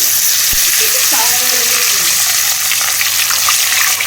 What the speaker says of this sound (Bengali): এবারে কলা ভাজাগুলো দিয়ে দিচ্ছি।